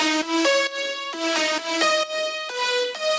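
Bright, powerful future house chord stabs from layered synths and piano, heavily processed with multiband compression, EQ, saturation and reverb, play in a steady rhythm of sustained chord changes, loud and full with no voices.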